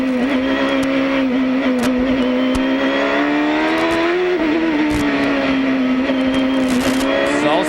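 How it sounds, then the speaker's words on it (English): Champ Car at the 2005 Denver street race, engine wailing steadily in second gear as the rear wheels spin on a slippery section, loud and close throughout with pitch rising and falling. "You heard the wheel spin."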